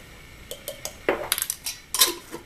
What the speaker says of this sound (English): Stir it up together, and you now have baking powder.